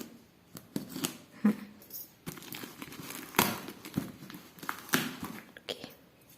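Scissors cut through the packaging of a plant bought online, giving a string of snipping and crinkling sounds up close, with rustling handling noise between the cuts.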